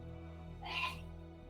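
A single muffled sneeze comes from somewhere else in the house, short and faint against a steady low background hum.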